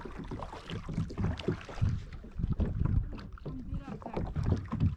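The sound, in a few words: wind picking up on a reservoir while kayak fishing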